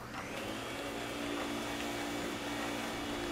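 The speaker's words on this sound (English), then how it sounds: "That's the vacuum cleaner I engineered to catch ghosts. I call it the Poltergust 3000. It can suck up all kinds of things." Poltergust 3000 ghost-catching vacuum from the Luigi's Mansion video game sucking steadily, a loud continuous whooshing drone with a low hum that swells slightly after the first second and holds without pause.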